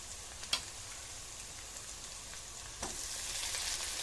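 Chili powder and garlic fry in hot oil with a soft, even sizzle and hiss. A couple of faint clicks from stirring sound near the start and later, all fairly quiet and without speech.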